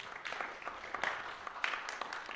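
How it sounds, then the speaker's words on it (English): Audience at a national youth SDGs pre-conference clapping for a presenter named Florence, a quiet, scattered patter of hands with distinct individual claps over a thin room background. "Let's give Florence a good clap."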